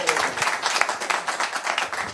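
Brief burst of audience applause, dense overlapping clapping from a crowd at a business pitch event, fairly steady across the short span.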